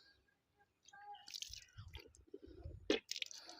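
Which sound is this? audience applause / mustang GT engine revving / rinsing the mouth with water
rinsing the mouth with water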